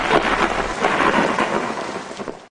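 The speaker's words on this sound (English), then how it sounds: "What is lightning and what is thunder?" Thunder rumbles loudly over heavy steady rain, a close storm filling the whole stretch without any speech.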